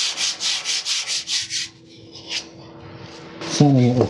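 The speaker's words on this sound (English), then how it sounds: "Sanding with 180 now." Rhythmic back-and-forth strokes of 180-grit sandpaper rasp over a motorcycle fairing or fuel tank, about a dozen quick passes, then the scrubbing fades and a brief voice sound follows.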